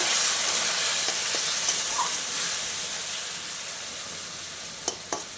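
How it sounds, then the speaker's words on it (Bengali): Water poured into a fish curry frying in oil sets off a strong, steady sizzle and hiss. The sizzle fades slowly over several seconds, with a few small clinks near the end and no talking. "জল দিয়ে দিচ্ছি, সামান্য একটুখানি জল।"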